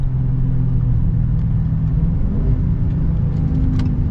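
A 2022 Dodge Charger Hellcat Widebody with its supercharged engine, heard from inside as a loud, steady low rumble with a continuous droning hum, no talk over it.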